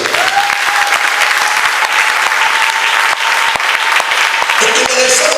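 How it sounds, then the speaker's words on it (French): A church congregation at a Sunday service bursts into loud, sustained applause that fills the room for several seconds, dense and steady with a few scattered cheers. "Maintenant acclamons pour lui encourager."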